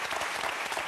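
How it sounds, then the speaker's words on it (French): A French television talk-show studio audience gives dense, steady applause that fills the room with continuous clapping. "Applaudissez toute l'équipe."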